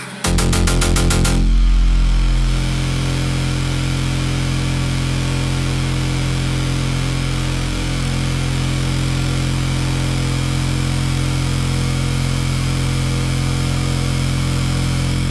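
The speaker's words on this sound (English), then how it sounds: "The engine is ready." A loud engine starts with a rapid burst, then settles into a steady, heavy drone that runs on unchanged, close and continuous.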